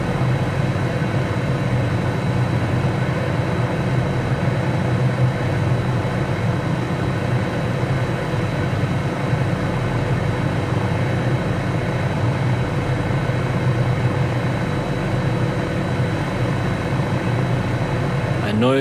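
A helicopter fitted with floats runs in Microsoft Flight Simulator 2020, a steady loud engine and rotor drone holding evenly throughout with no breaks.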